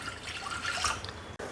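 Water pours into a pressure cooker sitting on a gas stove, a short close splashing trickle that breaks off abruptly near the end.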